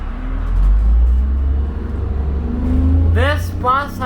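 A 2001 New Flyer D40LF city bus pulls away with a low, steady diesel drone that swells and eases, heard from inside near the engine; voices talk briefly toward the end.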